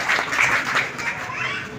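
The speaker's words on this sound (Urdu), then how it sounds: "آپ سب کے بھرپور تالیوں میں" Audience applause fills the hall at a student Urdu speech competition in Gulshan-e-Iqbal, Karachi, a steady wash of many hands clapping for a prize winner, loud and sustained without pause.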